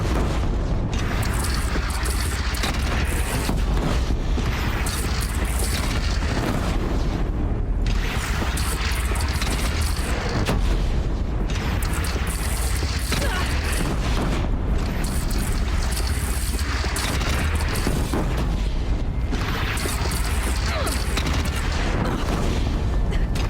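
Cannon fire in the Horizon Zero Dawn video game: repeated heavy booms roll through a dense, continuous battle din, loud and sustained with no talk over it.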